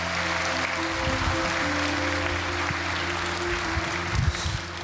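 A church congregation applauds as a pastor comes up to speak, a steady wash of many hands clapping at an even level throughout, over a low hum.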